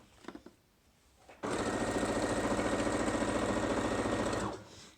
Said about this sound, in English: And then we're just going to sew. So a straight stitch down.